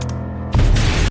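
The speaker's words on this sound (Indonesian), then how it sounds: "piano itu meledak di saat notasinya terjatuh" A piano blows up in a film scene with one sudden heavy boom that cuts in after a moment of quieter tonal sound, holds as a dense roar for about half a second, then stops abruptly.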